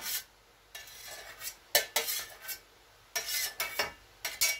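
Vegetables being stirred in a pot for a cereal-and-vegetable khichdi, heard as several separate bursts of scraping, rattling strokes with brief pauses between them, close and clear with no talking.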